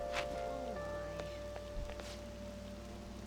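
Rain patters faintly in Persona 5 Royal, a low steady wash under quiet game tones and ambient hum, with a few soft clicks scattered through the short stretch.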